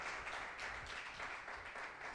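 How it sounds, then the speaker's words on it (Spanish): Church congregation applauding during a Sunday service, a soft, steady patter of many hands clapping that swells and eases in waves, heard from a distance. "Tenemos un aplauso a Dios por la vida de él"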